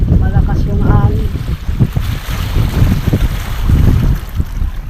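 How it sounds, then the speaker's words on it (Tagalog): Strong wind by the sea, with many fishing boats nearby, buffets the microphone in loud, gusty bursts under overcast skies, with a brief faint voice near the start. "Malakas yung hangin."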